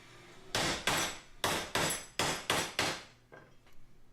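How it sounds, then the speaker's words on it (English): A hammer strikes steel about seven times in a loose rhythm while bending cut metal for a dance pad, each blow a sharp ringing clang up close, the last few softer. "That hammer noise sounds so much louder when my video camera records it than in person"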